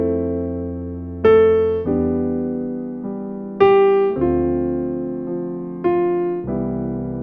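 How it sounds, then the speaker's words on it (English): A musical sequence of lounge-style piano chords following a downward motion in the manner of Mozart, three sustained phrases struck at roughly even intervals, each chord ringing and fading before the next, played alone without talk. "And with the lounge piano chords it could sound like this."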